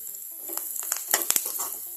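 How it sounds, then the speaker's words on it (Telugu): Ingredients for idli upma fry in a pan for about a minute, giving a low, steady sizzle with scattered crackles and a few sharper stirring scrapes near the middle. No one speaks. "ఒక 1 మినిట్ ఫ్రై చేసుకుందాం."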